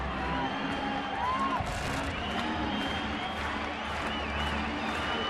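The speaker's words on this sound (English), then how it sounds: "So Belt enjoyed it so much, he fouled it off to hear the crowd again" A baseball stadium crowd at an Oakland at San Francisco game roars and cheers after a foul ball, a broad sustained wash of voices with a broadcaster's commentary over it.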